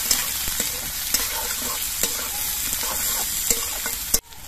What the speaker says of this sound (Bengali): পেঁয়াজটা কিছুক্ষণ ভেজে নিতে হবে।